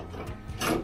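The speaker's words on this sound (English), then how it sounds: "just tighten that socket a little bit more" A socket being tightened on a tailgate storage unit for a next-generation Ford Ranger gives a brief, close burst of ratcheting clicks that builds louder toward the end.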